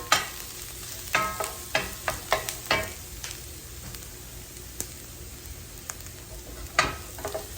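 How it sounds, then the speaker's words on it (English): Beans and charred onion browning in bacon grease get stirred with a utensil, a run of scraping knocks in the first three seconds over a low sizzle, then sparser scrapes, close and with no speech. "So come in and give them a nice stir."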